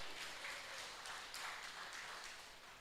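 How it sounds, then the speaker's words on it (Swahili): Applause for education staff at a church youth general conference business session, a steady wash of clapping from a crowd that swells slightly and carries on throughout, with no talk over it. "Makofi kwa watu wa education"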